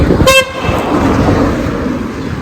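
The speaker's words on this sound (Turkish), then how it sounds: "Hani ne gerek var yani korna öyle basmaya?" A short car horn toot near the start, then steady traffic rumble and road noise carrying on underneath.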